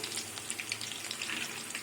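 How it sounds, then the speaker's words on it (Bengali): Mushrooms crackle softly in a hot pan, a faint continuous sizzle with small scattered pops, heard close and alone without talk. "এটা আমি কিছুক্ষণ ভেজে নেব"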